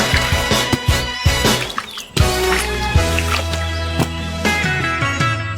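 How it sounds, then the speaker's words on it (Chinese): Eggplants are washed by hand in water, giving close, loud splashes, drips and sloshing in irregular bursts with a brief pause partway through, and no one speaking. "先把茄子清洗干净"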